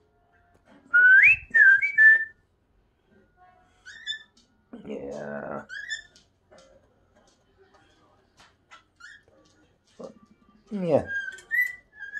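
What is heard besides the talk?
cockatiel whistling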